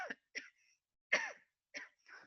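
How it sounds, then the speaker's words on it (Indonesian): A few short, separate coughs and throat-clears, close and fairly loud, spaced by silence over about two seconds. "maaf tadi agak batuk gitu"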